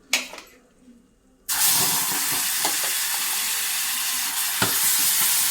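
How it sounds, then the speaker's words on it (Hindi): Tomato, onion, garlic, green chili and dried red chili puree frying in a pan for eggplant bhaji: a loud, steady sizzle that bursts in suddenly after a quiet start and holds close and strong, with faint stirring scrapes. "और इसको करेंगे खूब अच्छे से फ्राई।"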